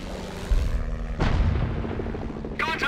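Heavy gunfire and shell blasts strike a Cromwell tank in the Company of Heroes battle in Authie near Caen, with two loud booming impacts close together followed by a crackling radio-like burst near the end.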